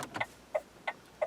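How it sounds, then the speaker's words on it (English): Turn indicators in a 2008 Vauxhall Astra H 1.7 CDTI hatchback tick in an even rhythm, four crisp clicks about a third of a second apart, quiet and alone inside the cabin. "That's the sound of the indicators."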